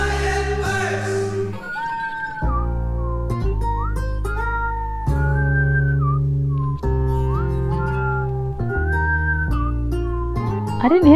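Melodic whistling rides over a music track in a music video, tuneful phrases that rise and fall between steady synth and bass notes, clearly audible throughout.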